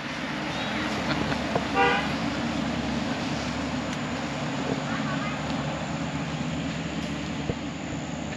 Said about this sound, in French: On arrête de klaxonner.